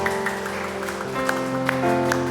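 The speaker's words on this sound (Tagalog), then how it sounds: "tayo po ay pumalakpak" A congregation applauds at an evening Christmas-season worship service, brief scattered clapping over sustained keyboard chords.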